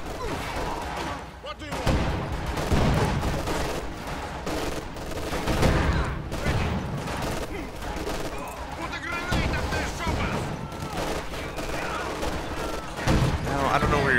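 Heavy machine gun nest in a Company of Heroes 2 battle, with dense, continuous rattling bursts and overlapping rifle volleys under a steady din of combat noise and a voice talking over it.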